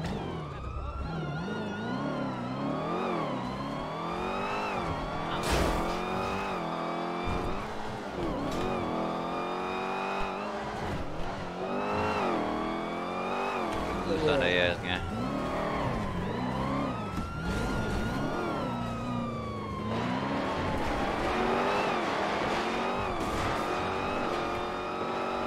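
A car in GTA RP roleplay driving hard through a chase, engine revving and pitching up and down almost continuously, with tire squeals and skids and a police siren wailing in the background.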